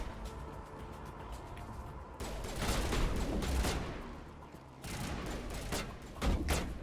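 Bursts of gunfire from the video game Mass Effect, several volleys rattling in quick succession against a steady backdrop of game noise, loud and close.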